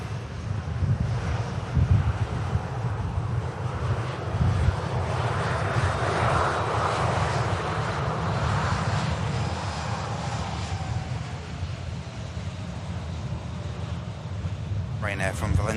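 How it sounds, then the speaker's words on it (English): A Ryanair airliner arriving from Valencia on final approach to Manchester Airport, a steady loud engine roar mixed with wind noise on the microphone, with a voice talking over it. "Ryanair from Valencia now entering the final 400 feet there."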